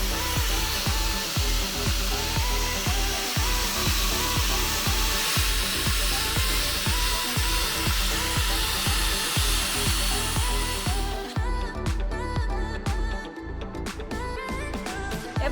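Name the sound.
sanding rusty paint off a pickup truck brake drum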